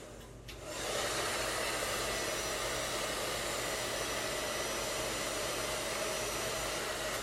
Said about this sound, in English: with my blow dryer in this hand and my brush in this hand